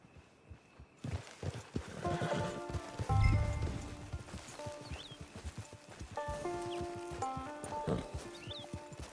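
Rhythmic clip-clop of horse hooves in Red Dead Redemption 2 Online, with a soft orchestral game score playing underneath, continuous and moderately loud.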